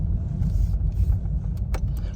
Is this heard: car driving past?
yes